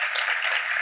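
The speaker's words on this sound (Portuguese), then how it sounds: "Uma salva de palmas para o Homem com H" An audience at a creative summit applauds, a dense, even wash of many hands clapping that holds steady through the whole short burst.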